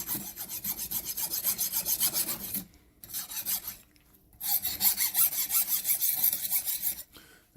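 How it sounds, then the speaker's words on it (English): A fine metal file rasps across a horseshoe in rhythmic back-and-forth strokes, close and fairly loud, in three bursts separated by short pauses. "Maybe I need a coarser file. This is a pretty fine file."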